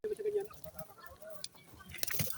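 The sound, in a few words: chicken clucking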